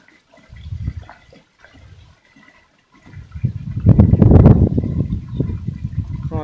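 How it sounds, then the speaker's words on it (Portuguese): Water glugging from a PET bottle into a chick waterer as the bottle is squeezed, starting with soft intermittent gurgles, then swelling into a louder bubbling pour close by. "Eu vou apertar aqui um pouco a garrafa para ele encher mais rápido."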